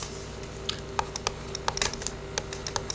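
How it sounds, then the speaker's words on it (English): Keys on a tablet's keyboard being bumped during a math lecture, giving a scatter of light, close clicks and taps at an irregular pace over a steady low hum, with no talk. "the way my tablet gets off there on the side, I'm bumping into the keys."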